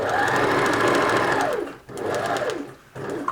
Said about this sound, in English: pivot the needle when you're a seam allowance away, and then run down the edge of your mask.